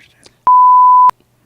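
A single loud censor bleep, a pure steady tone lasting about half a second, masks speech during a film review discussion of Kingsman: The Golden Circle, with only faint room sound around it.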